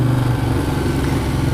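Ducati Diavel Carbon motorcycle engine running, a loud close throbbing twin-cylinder note that holds steady with a slight rise in pitch.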